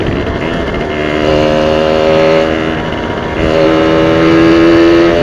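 A Yamaha V80 motorcycle engine runs loud and close, its buzzing two-stroke tone rising and dipping as it revs and shifts down through the gears, continuous for the whole stretch.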